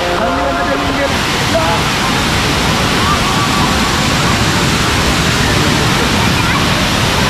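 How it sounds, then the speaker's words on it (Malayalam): Thirparappu waterfall in Kanyakumari crashes in a steady, loud broadband roar while spray splashes onto the camera, the rushing wash continuing unbroken and close throughout. "ക്യാമറ മുഴുവൻ ദേ വെള്ളം വീണു."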